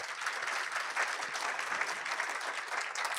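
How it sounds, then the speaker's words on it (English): Steady applause from a conference audience fills the whole stretch, a dense even patter of many hands clapping at moderate distance. "Please give them a round of applause."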